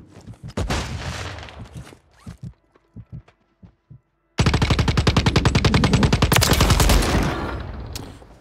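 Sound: Holger 26 gunfire in Warzone video game

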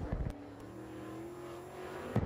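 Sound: open wheel modified race car qualifying lap at Boyds Speedway

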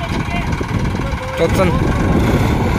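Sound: two tractors straining to pull a stuck trolley

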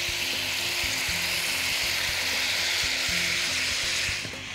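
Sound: minced meat frying in a pan with onion and spices

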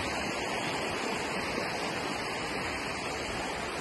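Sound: flowing water in a forest stream

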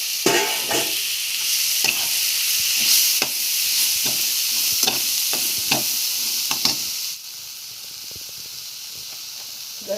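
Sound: moth beans and onion frying and stirred in a pan

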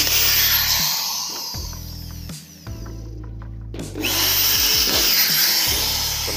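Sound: power drill making holes in a dent

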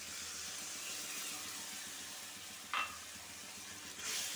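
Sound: frying spice paste with sour yogurt in a pan

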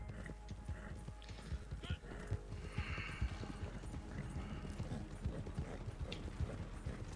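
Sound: horse hooves pulling a wagon in a video game

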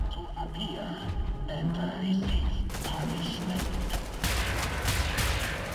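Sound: enemy gunfire in the video game Wolfenstein: The New Order

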